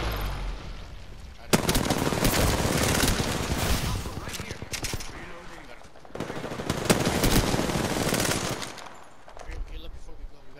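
Kraber sniper rifle shots in a video game ring out as loud, sharp blasts amid dense gunfire and game effects, with two long bursts of heavy firing separated by a quieter stretch.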